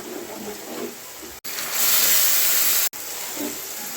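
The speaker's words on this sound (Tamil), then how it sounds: "இப்போ தக்காளி போட்டுக்கலாம்." Tomatoes frying in hot oil in a pan while making egg gravy, a steady hiss that swells louder in the middle section between two abrupt cuts, close and without speech.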